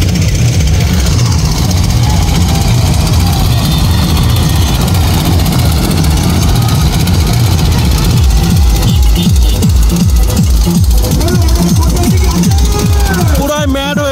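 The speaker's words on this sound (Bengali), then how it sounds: "মানে শব্দ, এত শব্দের ভিতরে আবার গান, জেনারেটর নিয়ে গান।" A generator engine drones loud and steady aboard a crowded DJ party boat, its low throbbing rumble mixed with pounding music and shouting voices throughout.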